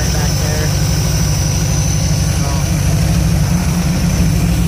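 Big block Chevrolet V8 in a 1975 K5 Blazer with an overheating problem idles steadily up close, a loud, constant low rumble with no change in rhythm.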